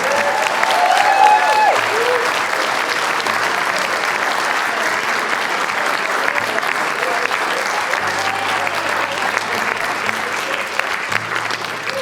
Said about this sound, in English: can we please have a round of applause for the staff here, please?